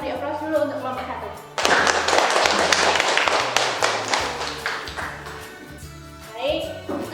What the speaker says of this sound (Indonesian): Sekarang beri aplaus dulu untuk kelompok 1.